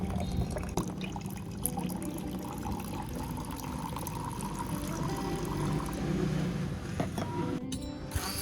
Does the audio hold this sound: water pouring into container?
yes